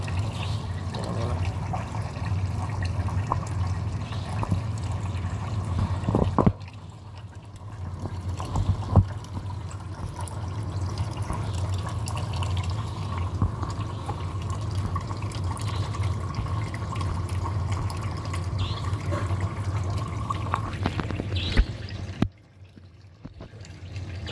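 Water pours and trickles steadily over a constant low hum, staying near and fairly even throughout, with a brief drop in level partway through and no talking.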